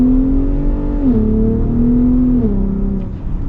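A 2021 Ford F-150 Raptor Gen 3 truck engine revs loudly and close up, holding a steady growl that climbs and drops in pitch through a few throttle blips, alone with no talk.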